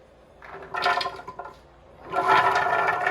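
Water gushes and splashes in two bursts into a blender holding almonds, a shorter pour followed by a longer, heavier stream, close by.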